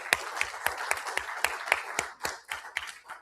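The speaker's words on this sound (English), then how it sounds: "Let's have applause for them." Auction-room applause for the bidders after a lot sells for $3,875,000 at a Hollywood entertainment auction, sounding as a sparse, fairly quiet ripple of individual claps with distinct separate hand strikes rather than a dense roar.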